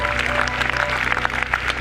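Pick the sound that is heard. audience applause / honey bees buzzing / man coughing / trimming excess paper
audience applause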